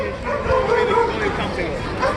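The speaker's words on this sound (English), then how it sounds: "Wow, what's with the dog?" A dog barks amid a noisy outdoor rally outside City Hall, its short yaps mixed into loud crowd babble and chatter at close range.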